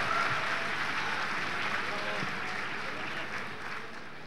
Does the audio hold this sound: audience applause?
yes